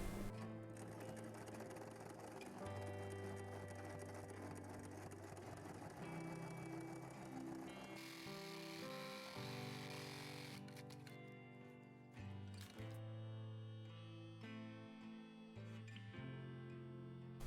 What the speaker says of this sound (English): I'm going to top stitch the bottom bit now of the hem with a slightly shorter stitch, number 3